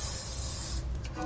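Lubricant sprays in a steady hiss onto a rubber exhaust hanger under a 2017 Toyota Prius v, running for about a second close to the microphone before a softer scraping follows.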